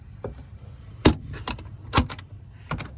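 A split door on the console of a 2024 East Cape Evo 18V boat is opened, giving a few close, sharp clicks and knocks of latches and panels spaced over a few seconds, with no talk.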